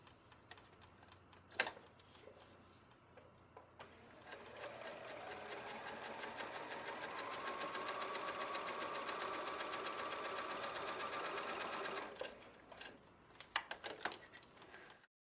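Sewing machine stitching Razzle Dazzle polyester thread for bobbinwork on a quilt piece, a few clicks, then a rapid steady whirring run of stitches for about eight seconds before it stops with a few scattered clicks.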